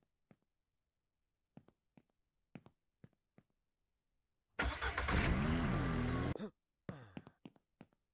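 A small vehicle's engine in the farming game Ranch Simulator revs loudly for about two seconds with a rising and falling whine, then cuts off, surrounded by scattered faint clicks and taps.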